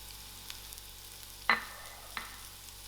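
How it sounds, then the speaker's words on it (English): Leeks fry gently in a pan with onions and thyme, a faint, quiet sizzle with a few sharp clicks and scrapes of stirring, no talk. "I'm going to add my leeks"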